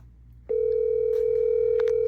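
A Grandstream GRP2614 desk phone gives a quick click, then a loud steady dial tone that holds for over a second, with faint key taps and handling noises over it.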